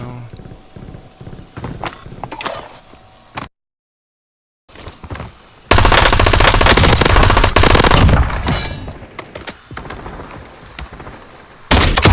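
Shooter game gunfire from prone position: scattered single shots early, a brief silence, then a long loud sustained automatic burst, with another short burst at the end.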